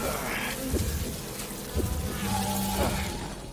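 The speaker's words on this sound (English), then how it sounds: "There's a bunch of bees on you." A swarm of bees drones in the video game Resident Evil 6, with a continuous insect buzz filling the background under low rumbling game sounds and a few scattered noises.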